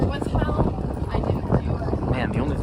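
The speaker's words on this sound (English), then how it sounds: "it is windy" Gusty wind buffets the microphone on a Midtown Manhattan street in spring, a dense low rumble that surges and fades throughout, with a voice talking over it.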